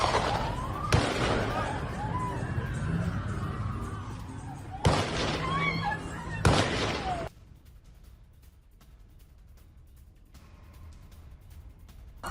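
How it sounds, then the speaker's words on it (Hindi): Gunfire from an attacker at Bondi Beach rings out as three sharp, loud cracks spread over several seconds amid voices, then gives way to quieter outdoor ambience. "बॉन्डी बीच पर हमलावर ने किस तरीके से की फायरिंग, उसकी तस्वीरें आपको दिखाएंगे।"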